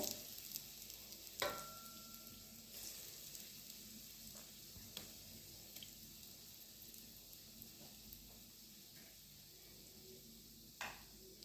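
Kothimbir vadi shallow-fry in a pan with a quiet, continuous sizzle and hiss, broken by a few faint clicks and utensil taps.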